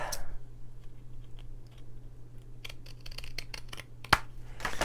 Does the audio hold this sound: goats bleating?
no